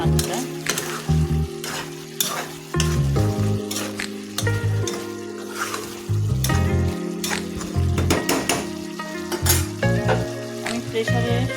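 Cut potatoes sizzle and fry in a wok (kadai), with repeated scraping stirs and clinks of a utensil against the metal over a steady crackling hiss, close up and without talk.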